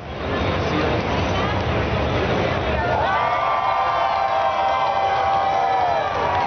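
A dense crowd roars and cheers continuously at full volume, with shouting voices rising and falling in a sustained wall of noise.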